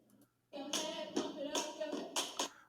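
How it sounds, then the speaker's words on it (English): Two girls clapping: a quick series of sharp, close hand claps in an uneven rhythm, about six strikes after a short quiet start. "That's just two girls clapping."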